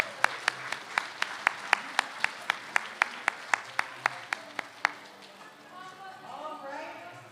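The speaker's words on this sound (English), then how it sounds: "Let's hear a round of applause for Mount Shim" At a Lions club convention, sharp claps ring out in a steady, evenly spaced rhythm for about five seconds, then stop as a voice begins talking.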